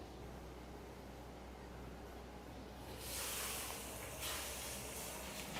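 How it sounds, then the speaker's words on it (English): Steady steam hiss over a low rumble from a steamer cooking cod fish on high heat, growing louder and brighter partway through. "Steam for about 6 to 8 minutes on high heat."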